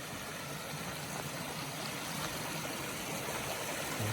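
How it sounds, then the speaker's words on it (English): A small stream runs beside an Appalachian Trail hiking path, giving a soft, steady trickle and babble of flowing water at moderate distance with no talking. "Nice little water feature at the end of the day."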